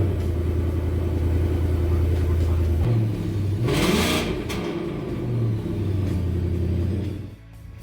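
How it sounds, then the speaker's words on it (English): The 5.0-liter engine of a 2021 Ford F-150 idles with a steady deep rumble, then revs briefly to a louder roar before settling back to idle. "But the 5-liter undoubtedly has an amazing sound."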